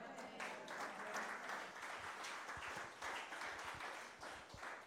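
Church congregation applauding together, a dense steady wash of many hands clapping that holds at an even level throughout, with a few louder individual claps standing out near the end.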